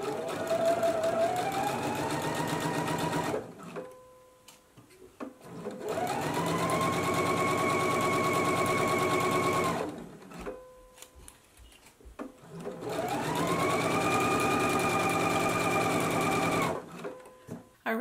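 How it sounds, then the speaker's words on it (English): A sewing machine stitches the side seams of a True Bias Roscoe blouse at half-inch seam allowance, running in three long steady bursts of close, continuous whirring separated by short pauses. "we're going to begin stitching at half an inch seam allowance all the way down to the hem"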